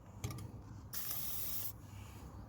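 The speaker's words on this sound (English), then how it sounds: "I'm gonna apply plenty of WD-40 just there" WD-40 sprays onto a hand brake cable clamp on a Toyota Yaris, a sharp hiss of just under a second from close by, with faint clicks of handling before it.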